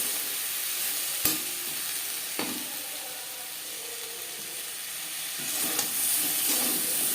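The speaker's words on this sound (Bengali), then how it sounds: "গাজরের সাথে টমেটো বেশ ভালো করে মিক্স করে দেবো।" Carrots and tomatoes fry in a pan with a continuous close sizzle, broken by a few sharp scrapes and knocks of a utensil stirring the vegetables.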